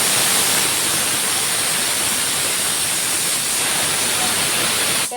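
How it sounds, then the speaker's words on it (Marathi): Water pours into a vessel of bitter gourd for washing in a home kitchen, a loud, steady rushing hiss that runs unbroken for several seconds before stopping abruptly. "आता कारल्यामध्ये पाणी टाकून घ्यायचं"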